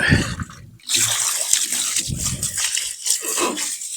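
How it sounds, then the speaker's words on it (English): Garden hose spray rinsing the slimy coils of an outdoor AC unit, a steady hiss of water striking metal fins that runs almost continuously, with brief low thumps and a short pause near the start. "now I'm going to rinse it one more time real thoroughly, and like a deep rinsing."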